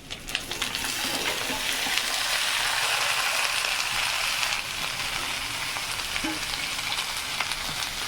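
Vegetables hit hot oil in a pan for a vegetarian sabzi, giving a loud, continuous, close sizzle that eases slightly about halfway and keeps crackling steadily.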